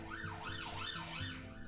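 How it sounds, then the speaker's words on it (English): An emergency vehicle siren wails outside an open window, its pitch sweeping up and down in a regular rapid cycle, fairly faint and steady with a low engine rumble beneath. "Oh boy, that was a siren and a half."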